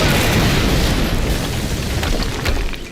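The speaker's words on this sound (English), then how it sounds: "we just heard an explosion near the harvesting perimeter" Explosion in the video game Quantum Break, a loud, dense boom that fills the sound right away and stays as a heavy rumble before slowly fading, heard alone.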